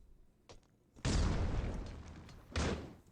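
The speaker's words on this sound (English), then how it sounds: "Looks like we got some smokes and some grenades flying." Grenades going off in the Critical Ops shooter game: a sharp pop, then a loud booming blast with a long noisy tail, followed by a second heavy explosion near the end, fairly close.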